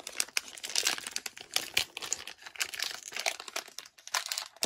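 Packs of hockey trading cards being torn open and handled, with steady close crinkling and crumpling of wrappers and card stock, in busy uneven bursts throughout, no talking.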